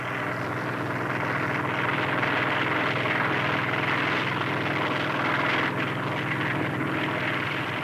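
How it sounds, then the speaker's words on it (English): A Sikorsky helicopter drones steadily overhead, a constant rotor and engine roar that holds even for several seconds with no voices. "Sikorsky helicopters, combining moderate aircraft speed with the ability to hover over a target area"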